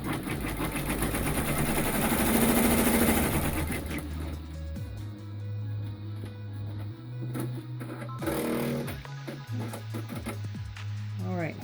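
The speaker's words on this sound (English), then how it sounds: "I'm going to let it stitch its securing stitch" A sewing machine runs a securing stitch on fabric for a zipper pouch wallet, a fast mechanical whirring and rattling at close range that shifts pitch and pauses partway, with motor hum continuing.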